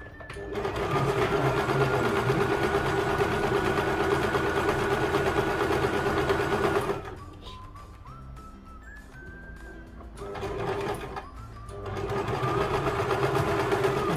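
A sewing machine stitches a dress in a steady, loud mechanical whir for about seven seconds, pauses with quieter handling noises, then starts up again near the end; no talking.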